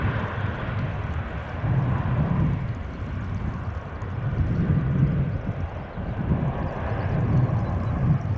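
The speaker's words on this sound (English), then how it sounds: "Stubby 737-700 going to center." A Boeing 737-700 airliner at Schiphol Airport rumbles in the distance, a low broad engine roar that swells and fades in slow waves over steady wind noise, with no voices.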